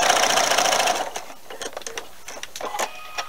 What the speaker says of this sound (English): I'm going to sew a little bit and then explain